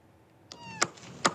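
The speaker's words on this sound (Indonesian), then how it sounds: "Seekor anak kucing terjebak di celah beton di lingkungan sekolah di Pemalang" A trapped kitten stuck in a concrete gap at a school in Pemalang, Central Java, gives two or three short, high, thin meows close by, with the first cry thinner and the next two sharper, against quiet surroundings.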